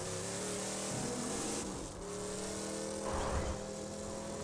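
A car engine in the Borderlands 2 video game drones steadily and loudly throughout, with a rising rev and a brief dip midway, then a swelling surge near the end; no talking.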